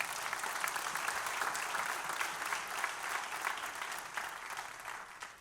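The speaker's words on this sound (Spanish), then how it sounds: "¿Cuánto le da un aplauso al Señor?" A church congregation breaks into sustained applause during a Sunday sermon, a dense, even wash of many hands clapping that holds steady and moderately loud for several seconds, with no speech over it.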